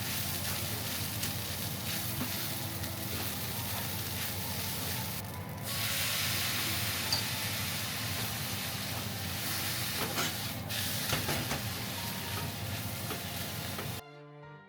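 Egg fried rice sizzles steadily in an iron frying pan, a continuous hiss with occasional stirring scrapes, fairly quiet and close, with no talking over it.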